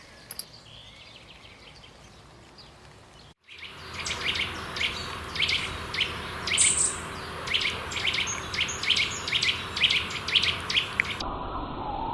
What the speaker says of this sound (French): Pivert, bien connu.